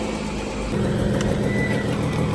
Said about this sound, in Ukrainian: Заводить машину, не заводиться. Каже, 5 місяців стоїть вона. О, заведеться. Завелася отлично.